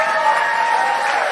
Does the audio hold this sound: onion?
no